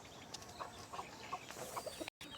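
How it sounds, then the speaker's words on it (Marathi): Soft, scattered clucks from a rooster roaming a village farm plot in Konkan, a few short calls spread over a steady outdoor background hiss, with a brief dropout near the end. "हा कोंबडा बघा माझ्या पाटला वाटलाच फिरतोय"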